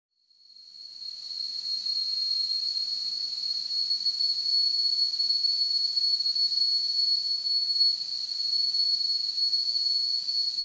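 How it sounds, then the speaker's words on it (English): A whistling kettle's shrill, steady high tone rises quickly and then holds at a constant level, loud and continuous with a faint hiss beneath it. "Whistling kettle."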